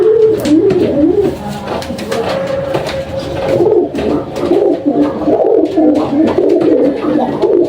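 Pet pigeons coo in a steady, close, rolling murmur, with soft fluttering and handling noises around them and no talk.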